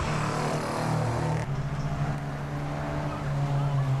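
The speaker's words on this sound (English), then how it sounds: "Getting this WRX around the course." An aging Subaru WRX rally car on a rally sprint course, its engine droning loud and steady with shifts in pitch as it drives around, a brief change partway through, and faint talk underneath.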